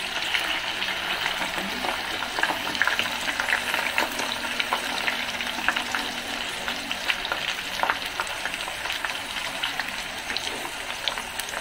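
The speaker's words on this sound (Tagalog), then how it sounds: "nagpapainit na ako guys ng mantika" Bangus frying in hot, reused cooking oil, a dense and even crackling sizzle with sharp spitting pops throughout, steady and close, with no one speaking.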